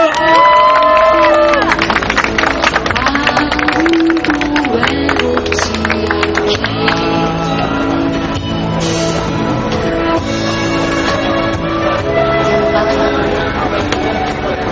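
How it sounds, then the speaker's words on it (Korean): A crowd at an outdoor protest rally applauds and cheers, loud and close, with claps and shouts over a dense, ringing din of sound that eases slightly toward the end while voices carry through it. "박수 부탁드립니다."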